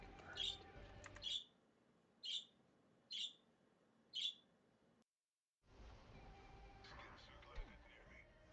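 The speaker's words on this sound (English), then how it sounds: "Oh, these fucking birds" Five short, bright bird chirps sound in a steady rhythm inside Apex Legends, each clear and close, followed by a brief dead silence and then a return of low game ambience.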